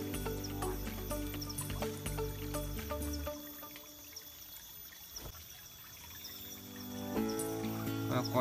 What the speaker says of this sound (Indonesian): Sekarang kita sudah di sungai dan banyunya kayak kocok.